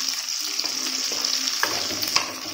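Onion and tomato sauté in a pan for sundal kulambu, with a continuous bright sizzle and a few soft scraping stirs and light knocks, close and steady.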